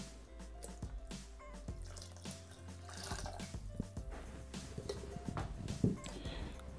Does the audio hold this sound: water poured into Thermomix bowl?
yes